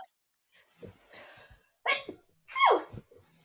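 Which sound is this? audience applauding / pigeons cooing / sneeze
sneeze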